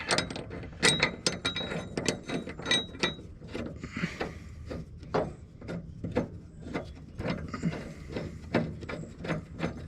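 A wrench ratchets in a long run of sharp, regular clicks while tightening the bolt on a mulching blade of a Simplicity lawn mower, heard close up without speech.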